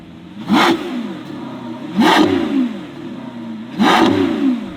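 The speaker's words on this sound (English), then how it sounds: "if you want to keep it nice and quiet" A Novitec-tuned Lamborghini Revuelto's exhaust in quiet mode, muffled, revs three times at evenly spaced intervals, each blip rising and falling, softer and more subdued between.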